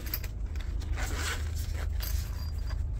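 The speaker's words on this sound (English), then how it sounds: "You got a zipper pouch" Zipper pouch from the box of an Artisan Cutlery Boa knife being unzipped, a close, steady scratchy zipping rasp lasting a few seconds with no talk.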